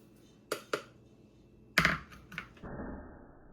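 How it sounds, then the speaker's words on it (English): Almond flour is sifted through a sieve for French macarons: two light taps, then a cluster of sharper knocks and a soft, steady rasping that carries on to the end, close up with no talking. "Now I'm gonna sift the almond flour."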